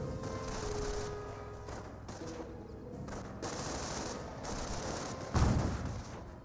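Rifle squad gunfire in Company of Heroes, a continuous crackling fusillade of overlapping rifle and automatic shots at mid distance, with a heavier thump near the end and no talking.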